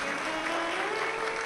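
Crowd applause breaks out at a Shiv Mahapuran katha religious gathering, a dense, sustained wash of clapping from a large audience, steady and loud throughout.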